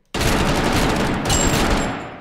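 A weapon in Totally Accurate Battlegrounds fires a loud, dense, unbroken burst of rapid gunshots that starts abruptly and runs for about two seconds before easing off slightly.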